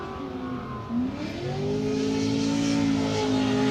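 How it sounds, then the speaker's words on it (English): A Wish Falcon Tire Corvette race car on a qualifying lap at Texas in 2018: its engine drones and climbs in pitch as it accelerates, growing louder and holding a strong, sustained roar through the end. "So Christos waits for his score as the Wish Falcon Tire Corvette of Matt Field hits the track for his siding lap."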